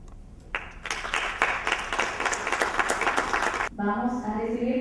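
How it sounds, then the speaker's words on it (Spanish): Applause from an audience at a poetry reading, a dense wash of many hands clapping that swells in, holds steady for about three seconds, then cuts off as a voice begins speaking. "Vamos a recibir con un aplauso a nuestra poeta Daniela."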